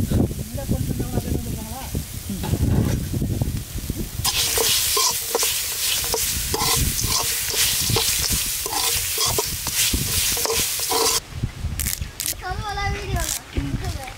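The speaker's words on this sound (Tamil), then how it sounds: "எல்லாத்தையும் ஒன்றா வறுத்து எடுத்துக்கோங்க" Grated coconut and curry leaves fry in a pan in a village kitchen, with a steady sizzle and repeated scraping stirs close by, while voices talk over the cooking.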